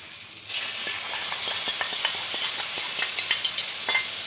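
Whisked sour yogurt goes into a frying masala for a fish head kalia; after a short quiet start a steady sizzle rises, dotted with light stirring scrapes, close by and with no voices.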